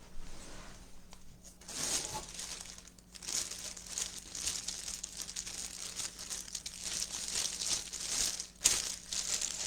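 Plastic crinkles and rustles continuously, close up, with uneven bursts of crumpling and a sharper crackle near the end.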